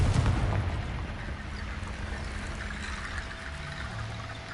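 The Confringo fire spell goes off in Hogwarts Legacy, a loud rushing, blast-like burst at the start that settles into a sustained crackling, rumbling roar.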